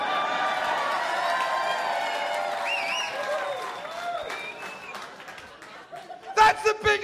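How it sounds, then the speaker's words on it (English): Comedy club audience cheering and applauding for a stand-up comedian, a loud sustained crowd roar with whoops and whistles that fades, then a few sharp claps near the end. "That's the biggest cheer you've given me all night!"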